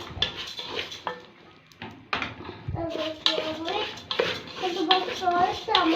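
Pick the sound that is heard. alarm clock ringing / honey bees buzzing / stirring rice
stirring rice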